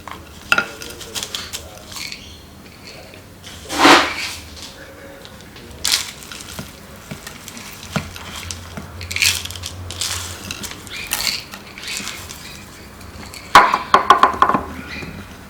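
Soil is pressed and worked into a pot around the roots of a false cypress (Chamaecyparis pisifera) bonsai, giving scattered gritty crunches and scrapes with a few louder bursts.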